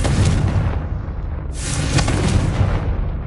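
Confringo blasting spell going off in Hogwarts Legacy, a loud booming explosion with a rumbling, crackling tail that swells again midway through, lasting several seconds with no talk over it.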